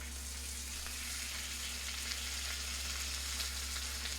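A thick piece of taco meat sears in a hot pan, giving a steady, even sizzle with a faint low hum beneath it and no voices.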